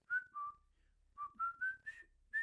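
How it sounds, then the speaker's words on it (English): A person whistles a bar of the Colonel Bogey March, clear, close tones in a short, bouncy melody with brief pauses between phrases, alone and with no talking. "That's the Colonel Bogey March."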